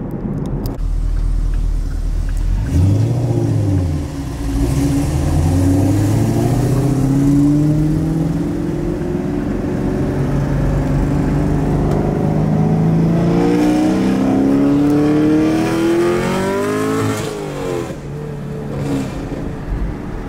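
A Camaro SS 1LE with Texas Speed 2-inch headers revs loudly and up close, its V8 exhaust rising and falling through several long pulls with a deep, throaty rumble.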